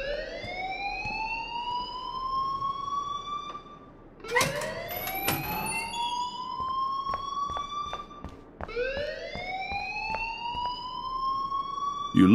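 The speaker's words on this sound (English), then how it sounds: "please turn off that alarm since that's your job" A school alarm in the Life Is Strange video game rings in three long rising wails, each sweeping upward and holding, loud and continuous with brief gaps between them.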